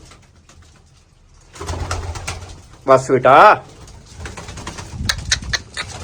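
Pigeons coo and flap their wings close by in short bursts, while someone speaks briefly.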